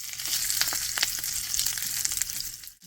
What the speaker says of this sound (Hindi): इसको अच्छे से सौते कर लें।